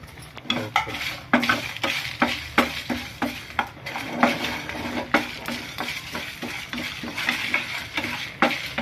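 Rava, coriander seeds and dried red chillies dry-roasting in a pan for tiffin sambar, with a steady series of sharp scraping stirs against the metal and a faint sizzle underneath, close and without voices.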